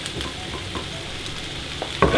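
Ackee and saltfish warming in a pan with a steady low sizzle and brief stirring, a louder scrape of the spoon near the end.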